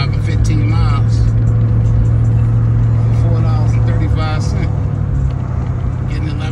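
A car's engine hums steadily as it drives along the road, a constant low drone inside the vehicle while someone talks over it.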